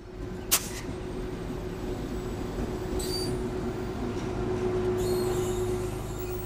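Constant rumble of the Ghan passenger train rolling through central Australia, with a steady tonal hum, a sharp click early on and occasional high wheel squeals.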